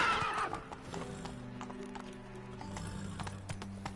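Roach, a horse in a PS4 video game, gallops with a quick run of clip-clopping hoofbeats. A short whinny opens the sequence, and the hooves carry on steadily and fairly close.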